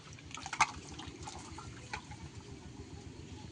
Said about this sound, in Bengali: ভালো করে ধুয়ে নেব আমটাকে